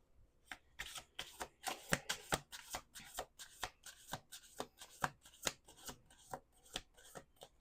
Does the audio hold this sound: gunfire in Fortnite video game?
no